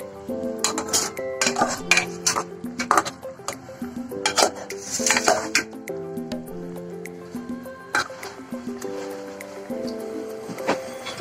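A nonstick pan and its lid are handled while chicken curry cooks, giving scattered metallic clinks and knocks over a simmering background, with no talk.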